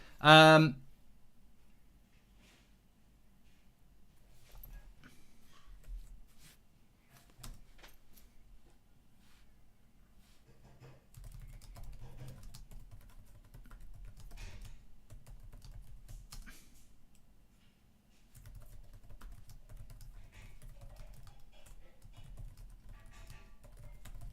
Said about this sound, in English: I was too busy typing down at the bottom.